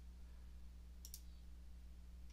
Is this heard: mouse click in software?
yes